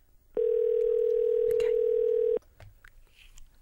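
A steady telephone dial tone sounds for about two seconds as a phone number is about to be dialed, loud and clean, then cuts off to quiet room noise.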